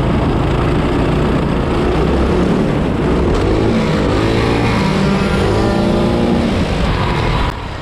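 ADX Prokart racing kart engines at Rye House, one with its chain stripped off after a hairpin, give a loud, steady, buzzing engine drone that holds almost unbroken for several seconds.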